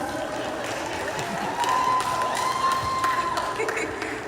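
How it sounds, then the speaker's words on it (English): An audience at a live Garifuna radio station event applauds and cheers continuously, with scattered whoops and shouts in a dense, steady crowd roar. "Please give me a round of applause."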